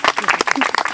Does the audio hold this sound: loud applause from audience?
yes